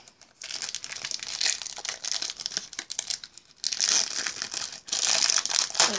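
A foil packet of football trading cards is torn and crinkled open, with bursts of bright crackling and rustling that pause briefly and then return louder near the end, close and clear with no talking.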